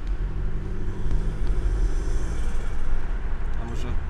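Seat Arona with a 1.5 TSI EVO 150 engine fitted with a RAMAIR intake and PRORAM sport filter, giving a steady loud low-pitched engine drone and intake rumble throughout, with some wind noise on the microphone.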